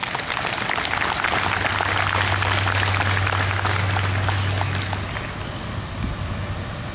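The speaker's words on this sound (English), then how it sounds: "let's give them a round of applause" Outdoor applause from a crowd at a Memorial Day service in Miamisburg, a dense, steady crackle of many hands lasting about five seconds before thinning, with a low rumble underneath.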